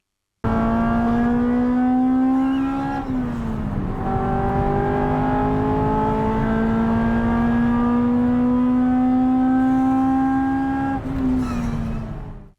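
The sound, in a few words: Honda CR-X engine revving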